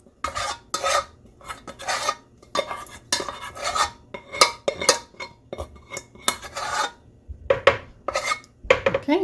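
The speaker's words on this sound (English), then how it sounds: "And I'll get a spoon too. See, there's a little bit left in the bowl there. So I'm going to scrape that out." A metal spoon scrapes leftover homemade yogurt from a bowl with a rapid series of close, scratchy strokes and light clinks against the dish, repeated steadily and heard alone without talking.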